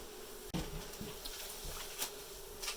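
Honey bees buzz in a dense, steady drone during a hive cutout in Dorrance, Kansas, with a sharp thump near the start and a few brief clicks over the close, continuous hum.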